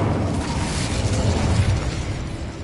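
A fire spell cast in Hogwarts Legacy bursts out as a dense, roaring whoosh of flame, loud and sustained for under three seconds with a crackling, explosive texture and no speech over it.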